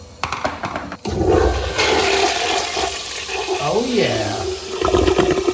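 A Sloan flush valve toilet flushes loudly and up close with a strong rushing, roaring surge of water that runs for several seconds, as someone speaks briefly over it.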